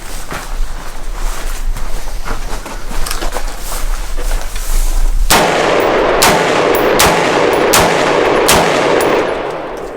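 Shots from a Prema Arms AR-15 rifle during a stress test ring out loud and sharp, roughly one per second, after about five seconds of rough wind-like background noise.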